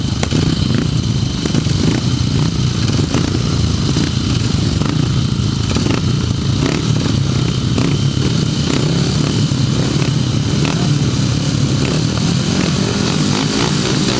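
500cc sidecar grasstrack motorcycles at a British grasstrack meeting, a steady raw engine drone with rough clattering texture, fairly loud and continuous throughout, no voices.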